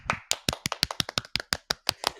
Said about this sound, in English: I'm putting my mic down and giving them a clap.